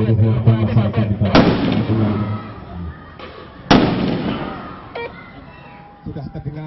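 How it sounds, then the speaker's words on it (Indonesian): Firecrackers set off as a signal for a landslide disaster drill in Pagerwojo, with two sharp loud bangs ringing out over voices and background talk at an outdoor village scene. "Ledakan mercon menjadi penanda terjadinya bencana."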